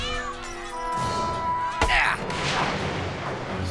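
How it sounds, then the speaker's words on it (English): A cat meows amid combat in South Park: The Stick of Truth, clear harmonic cries over game music and effects, with a sharp hit near the middle. "This guy's fighting a cat."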